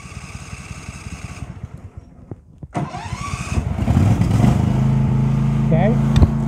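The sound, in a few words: engine starting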